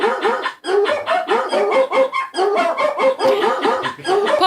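A dog barks in a rapid, unbroken string of short, loud barks, close by and almost continuous, with only brief gaps between bursts.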